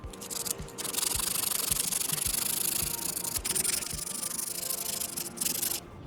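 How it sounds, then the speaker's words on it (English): Steady, coarse sanding strokes of 80 grit sandpaper on a rough, uneven surface, a continuous scratchy rasp with rhythmic pulses, close and fairly loud, no voices. "I'll start with the 80 grit sandpaper."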